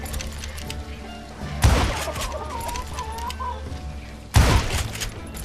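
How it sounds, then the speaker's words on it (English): Chickens cluck in the Call of Juarez Gunslinger video game under a steady layer of game ambience. Two sharp loud bursts break through, one near the start and one near the end. "Курицы."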